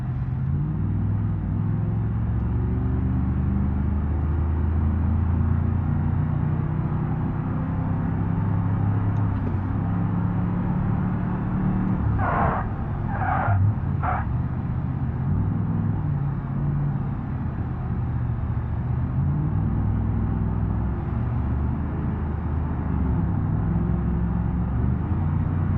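A 1977 Pontiac Trans Am Firebird driven in the BeamNG Drive game, its engine giving a continuous loud low rumble that rises and falls with the throttle, with a few brief squeaks partway through.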